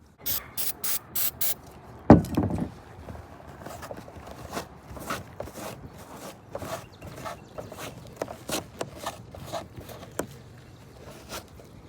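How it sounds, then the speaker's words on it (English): Brake cleaner sprays in short hissing bursts to strip headliner adhesive inside an 8th-gen Honda Civic coupe, followed by a loud clunk and a long run of squeaky wiping and rubbing strokes, close by. "we're gonna try brake cleaner out just to see if it gets rid of that adhesive"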